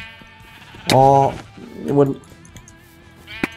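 Blocky Minecraft sheep give two loud, nasal bleats in a Mineplex arcade game, then a short higher cry near the end, with a player's brief exclamation around them.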